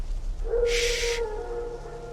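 A wild dog howls in The Witcher 3 video game as a single sustained tonal wail lasting about a second, set against a steady ambient background, with no voices.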